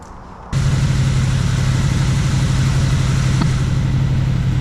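A carbureted V8 swapped into a Jeep XJ catches after a brief hush and settles into a loud, steady idle that runs on without a break, with no voices.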